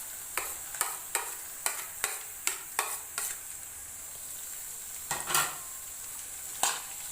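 Mutton fries with a cashew and onion paste in a pot, a low sizzle punctuated by a regular series of spatula scrapes and knocks against the metal, then a few slower stirs.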